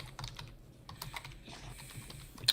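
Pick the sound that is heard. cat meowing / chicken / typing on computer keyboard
typing on computer keyboard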